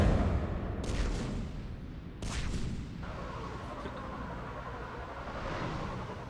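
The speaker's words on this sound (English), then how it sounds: "Firing main cannon." Main cannon of a ship firing in the video game Mass Effect 3, heavy booming blasts with a rumbling tail over a low, steady roar of engines and battle ambience.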